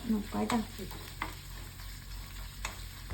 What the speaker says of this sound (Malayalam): തേങ്ങാക്കൊത്ത് ആദ്യം ഇട്ടിട്ട് നല്ലോണം മൂപ്പിച്ചെടുത്തിട്ട് ഈ ഉള്ളി ഇടും